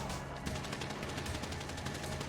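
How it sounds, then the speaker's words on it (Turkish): Rapid bursts of automatic gunfire in the video game GTA 5 during a team battle, with dense, sharp repeating shots filling the whole stretch, loud and close. "Ben birini daha vurdum."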